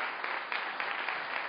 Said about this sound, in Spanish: Denle un aplauso fuerte a la visita.